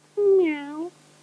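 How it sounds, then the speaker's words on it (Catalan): A cat gives a single clear meow, rising then falling and lasting under a second, alone against a quiet background. "Aquest és el gat"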